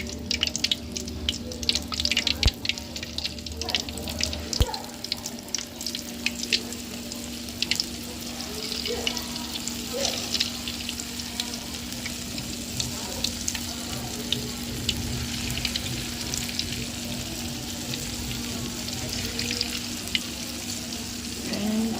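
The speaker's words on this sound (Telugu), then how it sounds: "ఆయిల్ అయితే బాగా హీట్ అయింది కదా చిట్టి పునుగులు వేద్దాం" Chitti punugulu, small urad dal fritters, deep-frying in hot oil, a continuous close crackling sizzle with watery bubbling and a few clinks, running steadily throughout, no talk.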